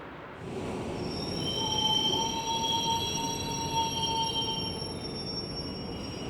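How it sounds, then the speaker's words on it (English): A train in 1971 on the way to Venice rolls along the rails with a broad rumble, thin high-pitched wheel squeals rising and holding above it throughout. "The train took us to our destination in a short time."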